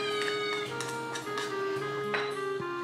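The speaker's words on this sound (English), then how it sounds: "I feel like he's like meowing" A pet cat meows repeatedly in short, close calls with brief gaps between them, over a steady tonal background hum.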